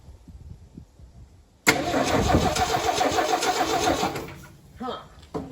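A 1978 Ford F-150 that has sat for 28 years cranks, the starter whirring loudly and steadily for a couple of seconds after a quiet stretch, then cutting off, with people talking briefly before and after.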